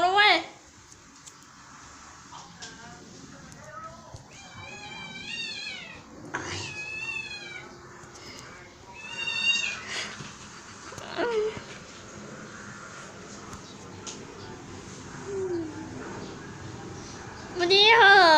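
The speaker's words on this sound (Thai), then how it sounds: "ขอจบการนำเสนอวิดีโอแมวตีกันเพียงแค่นี้นะครับ" A mother cat and her kitten squabble, with rising meows, yowls and a sharp screech at the end, loud and close, over soft background noise.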